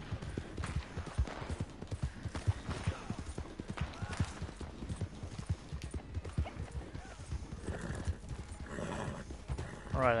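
Horse hooves clip-clopping in a steady rapid rhythm in Red Dead Online, with a horse whinnying over busy game sounds and no speech.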